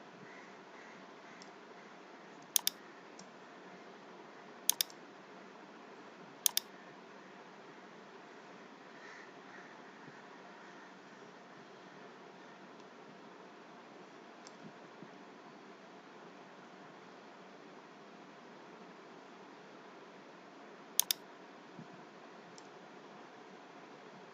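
A few sparse, sharp mouse clicks stand out against a faint steady hiss as curves are drawn with the pen tool, the clicks coming singly or in quick pairs with long quiet gaps between them.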